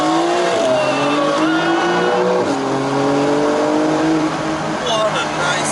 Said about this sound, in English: This is nice, this proper engine sound.